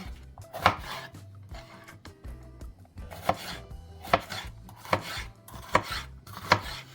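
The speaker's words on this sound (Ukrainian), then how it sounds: "І тепер нарізаємо соломкою, чи то дрібнемо, як нам зручно" A knife cuts cabbage into thin strips on a cutting board, about eight sharp, distinct chops spaced roughly evenly at close range, with quiet rustling and board sounds between them.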